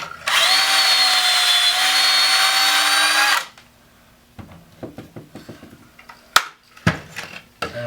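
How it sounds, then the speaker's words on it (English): A power drill whirs steadily for about three seconds, then stops, followed by scattered clicks and light handling knocks nearby. "I'm going to drill one hole."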